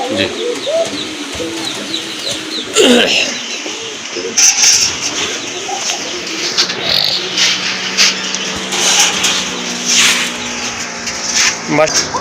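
Pigeons, including a pair of Kakji pigeons, cooing repeatedly in a loft, with soft overlapping coos and chirps close by alongside a person talking.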